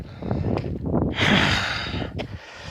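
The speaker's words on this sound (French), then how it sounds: "Mais je suis essoufflé." A runner out of breath while climbing uphill on a mountain race course, heard as heavy, rough breaths, snorts and a long exhaling gasp, close and loud with no talking.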